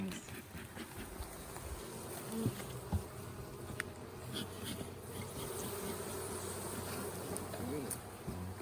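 Honeybees swarm and hum around an open hive during a honey harvest, a dense continuous buzz up close with occasional louder passes, some faint talk underneath.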